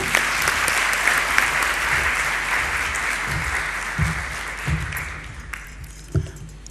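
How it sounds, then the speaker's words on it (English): Sustained applause from a crowd at a Capital Markets Authority strategic plan launch, loud and steady, gradually thinning toward the end with a few scattered claps and thumps. "And one more round of applause, please, to our chief guest."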